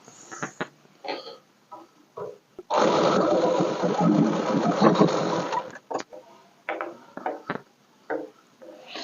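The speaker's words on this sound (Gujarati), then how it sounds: "આ રીતે એકવાર પહેલા તો સિલાઈ લગાવી દઈશું સીધી" A sewing machine runs a straight seam on a party-wear frock in one loud sustained burst of a few seconds, with softer handling noises and short bursts before and after.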